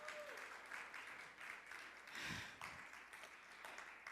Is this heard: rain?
no